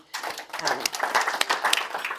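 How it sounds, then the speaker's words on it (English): An audience at a talk on the history of union action in Australia gives speaker Liam Byrne a round of applause, steady clapping that rises quickly and holds. "So one more round of applause for Liam."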